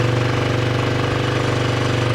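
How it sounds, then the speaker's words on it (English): Small engine idling high and steady, a possible lean carburetor condition, giving a continuous close mechanical drone with a faint rhythmic knock and no talk. "Now it's starting to idle high."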